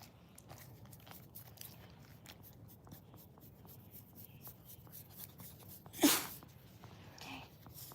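A single short, sharp sneeze bursts out near the six-second mark in a quiet room with a pet dog lying under blankets, set against soft rustling and faint background noise.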